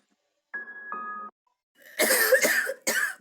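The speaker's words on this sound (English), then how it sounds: "This one is somebody coughing." A short tone sounds, then a person coughs a few times in harsh, close bursts with brief gaps between them.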